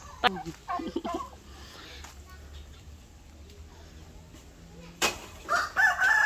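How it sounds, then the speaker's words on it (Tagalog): Turkeys gobble in short bursts near the start and again at the end, with clucking fowl and some background voices between. "Meron po dito mga pabo."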